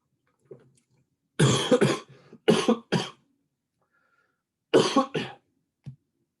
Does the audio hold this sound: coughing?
yes